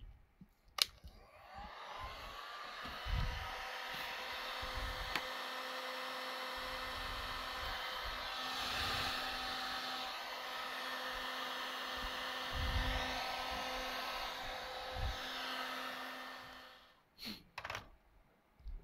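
A heat gun blowing hot air onto a Grado headphone driver, a steady whooshing fan hiss held for a long stretch with faint handling knocks, ending with a couple of clicks as it shuts off.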